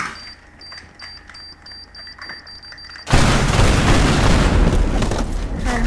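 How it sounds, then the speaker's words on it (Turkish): A bomb blows up a plane in the Teardown video game: after quiet game ambience with faint repeating beeps, a sudden loud explosion erupts into a sustained roaring rumble of destruction. "uçağı patlatalım biraz. Çünkü niye olmasın yani. Biraz bomba ve 3, 2, 1."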